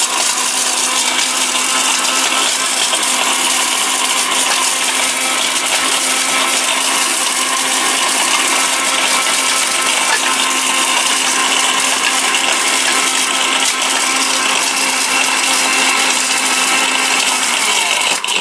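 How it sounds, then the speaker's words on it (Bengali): A robot food processor blender runs continuously and loudly nearby, a steady whirring motor drone with a faint rattle that holds without a break and has no voices over it. "আজকে খেলা হবে খেলা ভাই বুঝছেন এমন এক ব্লেন্ডার নিয়ে আসছি পাগলা ব্লেন্ডার"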